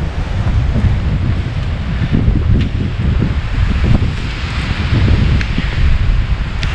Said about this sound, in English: every now and then you get hit by one of those major gusts.